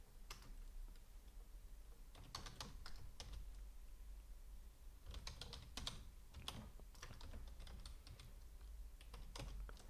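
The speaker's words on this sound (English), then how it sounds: "Now we need to type in the email address." Typing an email address on a computer keyboard, quick clusters of close, crisp key clicks separated by short pauses, faint and alone with no talking.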